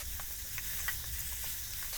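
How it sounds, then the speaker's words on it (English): Steady sizzling of squash stir-frying in a pan, with a few light clinks and scrapes of stirring over the constant hiss. "This is kind of just like a quick stir-frying type of cooking."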